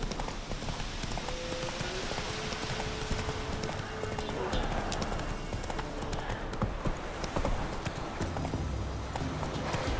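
Roach the horse from the video game The Witcher 3 gallops with dense, continuous hoofbeats over a busy background, and a brief voice is heard partway through.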